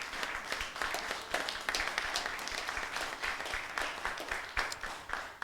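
Church congregation applauding during a pastor's ordination ceremony in Drummondville, sustained, even clapping from many hands filling the room, moderately loud with no break.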